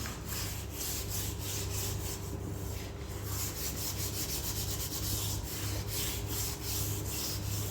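Steel wool scrubbing an old, blackened iron kadai, a steady continuous abrasive rubbing with a regular back-and-forth pulse, close and fairly loud, with no talking.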